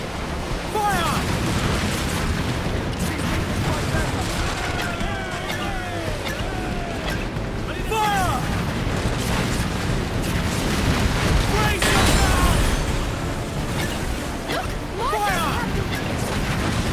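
Mortar fire in the naval combat of Assassin's Creed Black Flag: heavy booms and bursts under a constant roar of sea and battle noise, loud and dense, with speech mixed into the chaos.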